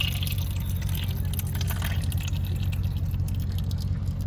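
Field marking paint poured from a container into a mixing bucket for a turf line painter, a steady close liquid rush that keeps going without pause.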